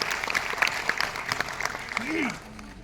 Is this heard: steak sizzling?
no